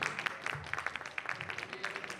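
An audience at a wedding festival applauds a music academy's performance, a faint, continuous patter of many hands clapping for about two seconds.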